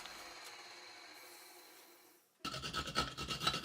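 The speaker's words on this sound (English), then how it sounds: "I took the chance to also sand the outside bottom, as this works pretty fast on the lathe" The outside bottom of a segmented wooden bowl is sanded on a spinning lathe, a faint rasp at first, then a louder, rhythmic scratchy grinding as the paper presses harder against the surface.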